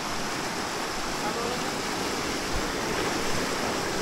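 Strong river water rushing steadily at a trout stream, a loud, dense and continuous roar close by with no break or variation.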